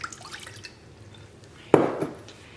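Milk poured into melted butter in a pan for no bake cookies, a faint drippy patter building into a sudden brief splash and liquid rush near the end.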